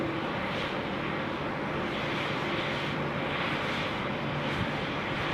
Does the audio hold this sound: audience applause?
no